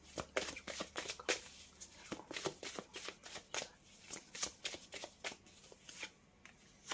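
Tarot cards shuffled by hand, a close, quiet run of quick crisp riffles and slaps in an uneven rhythm, with no talking over it.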